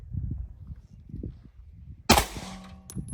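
A single sharp shot from a Pakistani-made 9mm handgun, CZ 75 or Beretta 92 type, fired outdoors at a target, loud and close with a short ringing tail, after a stretch of low murmuring voices.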